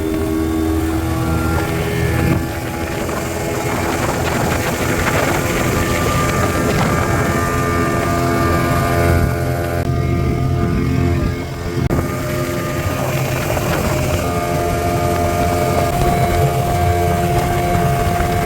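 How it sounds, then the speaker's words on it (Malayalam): A speedboat races across the sea off Lampung, its engine a loud steady drone with wind rushing over the microphone throughout, no voices. "സ്പീഡ് ബോട്ട് യാത്രയുടെ പൂതി ഇതോടെ തീർന്നു."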